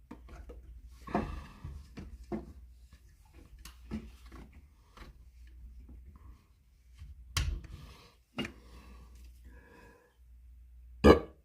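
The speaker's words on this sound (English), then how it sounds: "I didn't used to be able to burp like that." A man burps loudly and abruptly near the end, after a long stretch of quiet handling and rubbing noises with a few sharper knocks and clicks.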